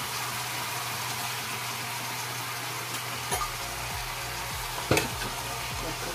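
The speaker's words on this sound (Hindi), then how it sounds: "अब मैं इसमें टमाटर डाल दूंगी।" Steady sizzling of vegetables frying in a pan for aloo baingan sabzi, with a couple of brief clinks and scrapes as tomatoes are added and stirred, close and continuous.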